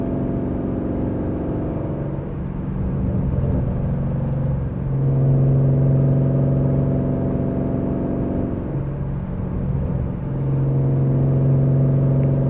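A Ford Mustang GT pulling hard from inside the cabin, a loud, steady engine roar that swells and drops as the revs climb through the gears, with a constant road rumble underneath and no speech.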